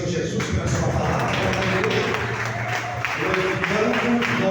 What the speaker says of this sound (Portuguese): Vamos aplaudir o Senhor Jesus pela sua palavra.